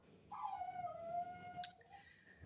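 A small dog indoors lets out a long, high, drawn-out whine that slowly falls in pitch, then a brief sharp yip, heard fairly close and softly, with no talking.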